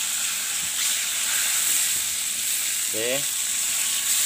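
Turtledove meat fries in oyster sauce, giving a steady bright sizzle and hiss throughout, with a brief clatter of cooking utensils and a short spoken word.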